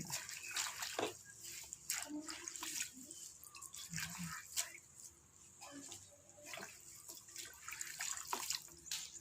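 Green papaya being washed in a basin of water, with close, quiet sloshing, dripping and splashing in irregular bursts and occasional handling knocks, no clear speech.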